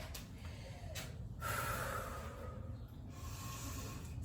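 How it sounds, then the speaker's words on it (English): Someone rests between workout sets, breathing heavily with a few deep, audible inhales and exhales over a hissy background, close but fairly quiet. "just try to let my breathing normalize a little bit."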